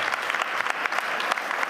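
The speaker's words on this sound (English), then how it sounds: "That was not a large applause." Short burst of live audience applause at a World Economic Forum interview session, steady dense clapping from a moderate-sized crowd lasting under two seconds.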